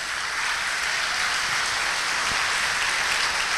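A church congregation bursts into dense, continuous applause, many hands clapping together in a steady roar filling the room, loud and sustained without speech.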